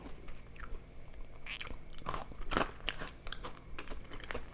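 Crunchy raw vegetables are bitten and chewed close up, loud crisp crunches arriving in irregular bursts over a quiet background.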